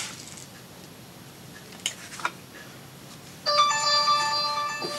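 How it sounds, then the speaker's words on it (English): A mobile phone ringtone starts midway with a bright, repeating electronic melody, loud and near, after a few faint clicks over quiet room noise. "Sorry about my phone."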